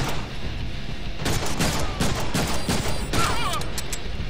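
Gunfire from the Deadpool video game, a quick run of sharp shots fired in clustered bursts after a brief quieter start, loud and close.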